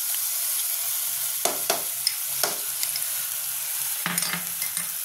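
Garlic, ginger and green chilli paste sizzles with onion paste in a hot pan, a steady close frying hiss broken by several louder scraping stirs, no voices.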